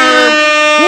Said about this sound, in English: We're going to send out the air horns.